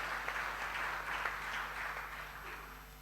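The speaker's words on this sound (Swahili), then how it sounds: "Kwa hiyo tujipigie makofi sana." Faint, steady applause from a conference audience of engineers at Mlimani City, a soft continuous patter of many hands lasting a few seconds without a break.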